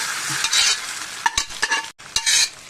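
Garlic and dried red chillies fried in hot oil are poured into a curry, giving a loud, close sizzle in several bursts with stirring and spoon clinks between them.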